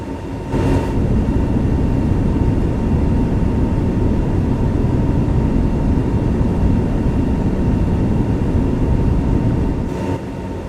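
Jet engines of a Toliss A321neo at climb thrust in the X-Plane 12 flight simulator roar loudly and steadily, a dense broadband rumble that holds without letup for about ten seconds.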